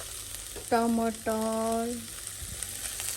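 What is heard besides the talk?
vegetables frying for chow mein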